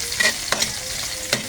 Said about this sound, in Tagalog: gigisa muna natin bago hulog natin ang pusit mga guys